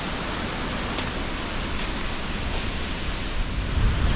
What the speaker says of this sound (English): all the snow is melting off the tree limbs, and it's like it's raining on us